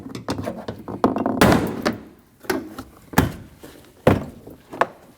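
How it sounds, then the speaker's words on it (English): Plastic door panel clips on a 2012-2021 Nissan NV2500 van pop loose one after another as a trim tool pries the front left door panel, giving a series of sharp, close snaps and thunks with pauses between them. "take a trim tool like this, put it behind, and pull that door panel straight out."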